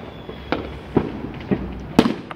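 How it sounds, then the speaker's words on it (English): Several Fourth of July fireworks burst in quick succession, four or five sharp booming pops spaced about half a second apart against a low background hiss. "There's more fireworks."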